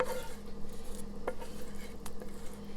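A spoon mixes cornbread casserole mixture in a pan, giving soft, steady scraping and a few brief clinks against the pan, with low kitchen background hum throughout.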